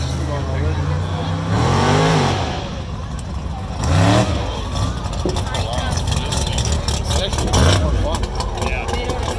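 Groundbreaker mega truck's engine revs in loud surging bursts around two, four and seven and a half seconds over a steady rumble, with a crowd or announcer talking underneath at a dirt monster truck event.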